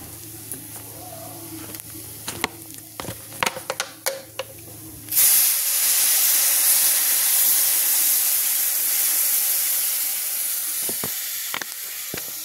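Soft clinks and stirring in a pan of semolina upma with cashews, raisins, salt and turmeric give way to a sudden loud steaming hiss as water hits the hot pan. The hiss holds steady and slowly fades.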